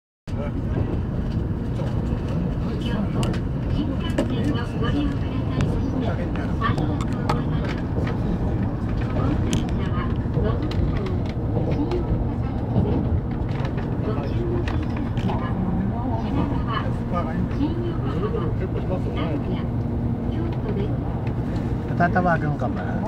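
Inside a bullet train travelling from Tokyo to Nagoya, a steady loud rumble and rushing cabin noise runs throughout while people talk over it.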